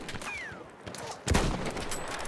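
Gunfire from the video game Battlefield 1 on the Ballroom Blitz map, sniper play: a few sharp shots and a louder burst about halfway through, mixed with faint in-game effects.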